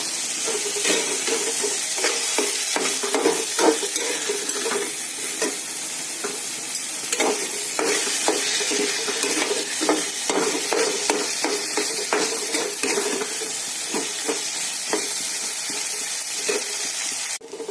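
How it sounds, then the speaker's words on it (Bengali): Soaked rice being stir-fried in a pan for fish-head muri ghonto, a loud continuous sizzle with repeated scraping and stirring strokes of a spatula, close up and no speech. "এবার চালটা দিয়ে ভালো করে কষাবো।"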